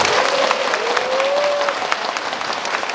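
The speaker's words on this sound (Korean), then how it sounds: "서혜석 사장님한테 박수 한번 해주세요" An audience at an outdoor traditional-music concert and festival applauds steadily and evenly, with a brief thin whistle-like tone rising faintly above the clapping partway through.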